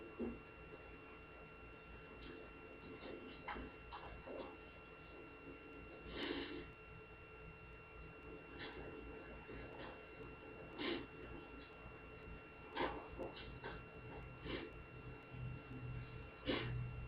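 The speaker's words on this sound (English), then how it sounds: "It's all the sniffling in court" Scattered sniffles rise intermittently from people in a quiet courtroom, soft and brief against a steady low room hum and faint murmuring.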